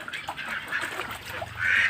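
Penned ducks on a flooded farm quack repeatedly at close range, a busy overlapping chorus of nasal calls, with a louder burst near the end.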